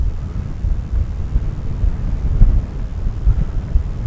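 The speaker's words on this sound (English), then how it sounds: "So the wind's a little blustery right now" Blustery outdoor wind buffeting the microphone, a loud continuous low rumble with gusty swells and no voices.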